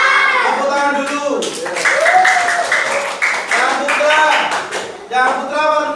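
A group of children claps hands together in a classroom, a busy patter of claps mixed with young voices and chatter throughout.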